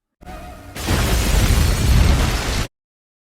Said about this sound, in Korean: 2개의 수정된 폭탄을 설치했는데 잠재적인 피해자로부터 전화가 오면 폭탄이 자동으로 폭발했습니다